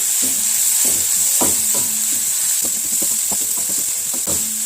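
Sliced capsicum and carrot sautéing in a pan for restaurant-style chicken noodles: a loud constant sizzle with repeated close spatula scrapes and stirring knocks in an uneven rhythm.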